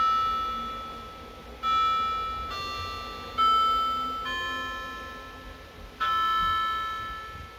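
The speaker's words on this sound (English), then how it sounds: "the pillar and scroll clock is going off now." A Howard Miller Eastmont dual-chime wall clock plays its pillar and scroll chime, with five ringing bell-like strikes at uneven intervals, each decaying slowly, clear and fairly close in a quiet room.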